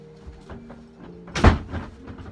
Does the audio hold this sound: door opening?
yes